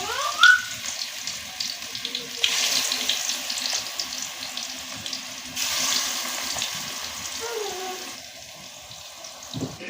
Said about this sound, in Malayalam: എണ്ണ ചൂടാകുമ്പോൾ മീൻ കഷണങ്ങൾ ഓരോന്നായി ഇട്ട് 2 ഭാഗവും